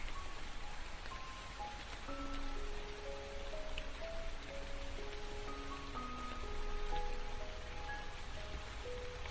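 Steady video-game rain patters on surfaces, a soft continuous hiss that rises and falls slightly, with gentle melodic notes drifting over it.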